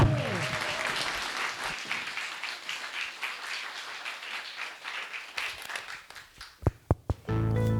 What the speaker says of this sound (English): Insert rapturous applause now.